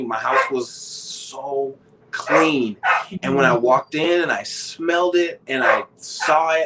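A pet dog barks in short bursts indoors, close by, mixed in with continuous talking from a person.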